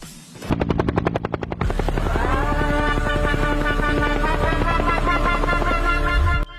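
A rapid mechanical thudding starts, then settles into a steady, loud whirring drone like helicopter rotors spinning up nearby.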